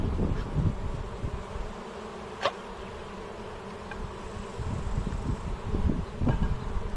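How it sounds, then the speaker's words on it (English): Honeybees fly around a hive, a continuous low buzzing swarm with wind and faint rustling, plus a brief sharp tick midway. "you may not be comfortable with all these bees flying around"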